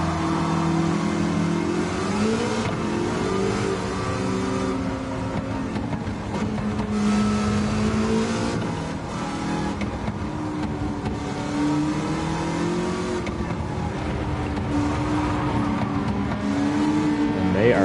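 A Gran Turismo 7 Amuse 380RS with a swapped-in V6 engine revs and accelerates continuously, its engine tone rising and falling in sweeps throughout, loud and steady with a dense, buzzy racing roar.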